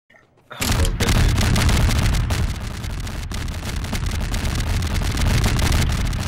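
C4 explosions set off on a tower in a modded video game: after a brief quiet start, a loud continuous barrage of booms and crackling blasts rolls on without letup.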